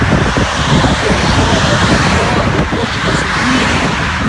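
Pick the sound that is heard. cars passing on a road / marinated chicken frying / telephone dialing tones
cars passing on a road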